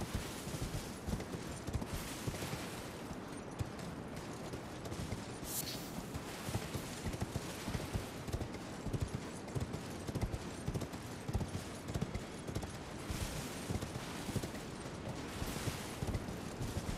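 Horse hooves clip-clopping while riding in the video game Elden Ring, Shadow of the Erdtree DLC, a quiet, steady rhythmic patter of hoofbeats with dense background noise throughout.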